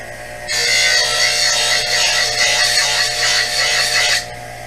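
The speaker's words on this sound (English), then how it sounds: "We'll go to the grinding wheel, and we'll find out exactly what this is." Scrap metal pressed against a spinning bench grinding wheel to test it, giving one steady, loud, harsh hiss-whine of about four seconds that starts and stops abruptly over the motor's low hum.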